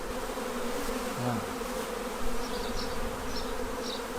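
Honey bees buzz densely around an open beehive, a constant close drone with individual bees passing nearby, and one brief spoken exclamation.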